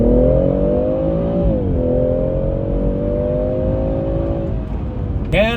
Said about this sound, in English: I actually enjoy the sound of this modern 6-cylinder turbo engines better than the naturally aspirated ones